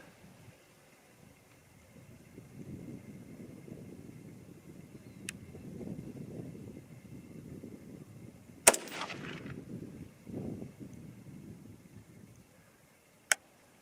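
Bear Creek Arsenal 5.56 varmint rifle fired outdoors, one sharp loud crack standing out midway with a quick decaying tail, plus a fainter distant snap near the end, over low rumbling wind and ambient noise.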